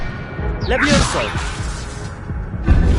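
Levioso levitation spell cast in Hogwarts Legacy, a brief rising magical swish with a thud, layered over battle noise and speech in a combat scene.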